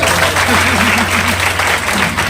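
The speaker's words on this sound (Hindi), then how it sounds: "एक बार इनके लिए ताली बजा।" A crowd claps steadily in a dense burst of applause, loud and close, with a voice briefly audible underneath.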